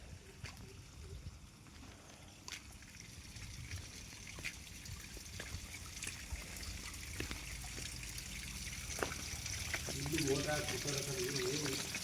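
Water flows inside the KRS Kalenahalli underpass tunnel, a soft continuous trickling and running sound with faint scattered ticks, steady and low in level throughout.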